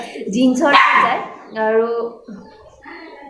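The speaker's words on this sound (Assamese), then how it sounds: "কুকুৰটোৱে ভুকি আছে বহুত বেছি" A dog barks in a few short bursts close by, mixed in with someone talking over the noise.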